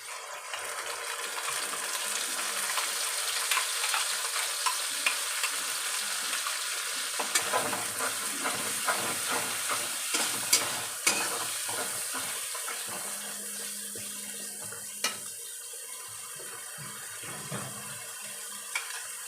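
Steady frying sizzle of onions and poppy seeds in a pan with stirring scrapes and occasional sharp clinks, close and continuous, no voices.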